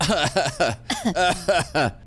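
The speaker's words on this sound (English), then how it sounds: "The four of you begin to cough violently." Several people cough in quick, harsh bursts, one after another, close and loud, with a voiced, throaty edge.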